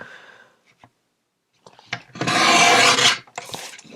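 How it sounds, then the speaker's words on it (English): A paper greeting card, recycled from a Christmas card, is trimmed along its ragged edge, giving a close, loud scraping rasp of about a second and a half, preceded by short faint scrapes and followed by a briefer cut. "I'm going to go ahead and trim this down a little bit since it is kind of a ragged edge."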